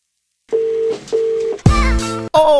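Telephone dialing tones on a call, two steady identical beeps followed by louder, harsher tones that sound close and alone.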